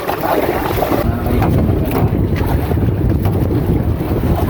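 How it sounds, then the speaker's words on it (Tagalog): Strong wind buffets the microphone in a steady roar aboard a traditional Filipino fishing boat with its engine running and net lifted by the wind, with water sloshing beneath; no voices. "grabing lakas ng hangin ngayon"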